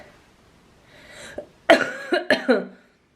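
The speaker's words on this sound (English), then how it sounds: "Really sorry about the coughing." Several harsh coughs in quick succession, loud and close, preceded by faint breathing and a brief throat noise.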